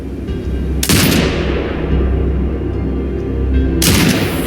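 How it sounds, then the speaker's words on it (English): A remote-controlled automated turret opens fire in Sniper Ghost Warrior Contracts 2, two loud bursts of heavy gunfire, each trailing off into a long rumbling echo, with a pause between them. "Exit binocular mode and command the turret to fire."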